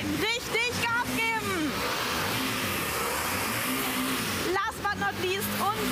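Porsche sports cars, including a 959S and a Carrera GT1, revving hard at a night sound event, a loud sustained engine roar with rising and falling pitch sweeps at start and end, people talking over it.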